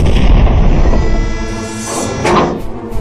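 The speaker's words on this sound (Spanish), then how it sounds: "El Hood dispara primero." Heavy battleship guns of the Hood and Bismarck booming in a film battle scene, one loud deep roar rolling on with a second heavy blast swelling near the end.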